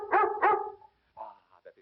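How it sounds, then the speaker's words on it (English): Big dog barking, two loud close woofs in quick succession followed after a short pause by a few quieter, shorter yips and whines, with no talk. "I want big barks"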